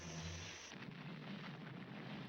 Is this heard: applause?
no